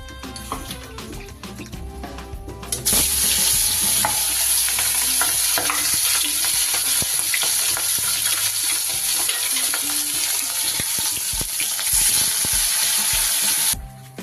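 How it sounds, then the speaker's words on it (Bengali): Catla fish head frying in oil in a kadai: a quiet opening, then a loud, steady sizzle that holds to the end, broken by the scrape and clatter of stirring, with no talk. "প্রথমে আমি মাছের মাথাটা ভালো করে লাল লাল করে ভেজে নিই"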